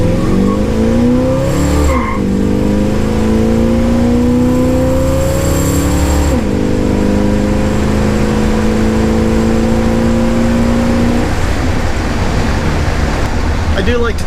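A Shelby Cobra replica's warmed-up engine revs loudly and close by, rising in pitch through two throttle pulls with a short dip between them, then settling toward idle as the roar fades.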